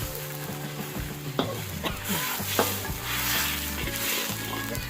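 Curry being stirred in a pan with a little plain water just added, a Thai jungle curry with climbing perch; steady sizzling and scraping with a few sharp spoon clicks, close and continuous, with faint tonal sounds in the background.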